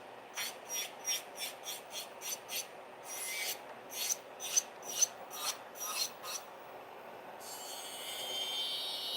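A nail file shapes nails in quick, rhythmic strokes, a dozen or so close raspy scrapes, followed by a longer continuous rub near the end.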